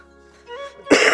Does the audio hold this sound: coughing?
yes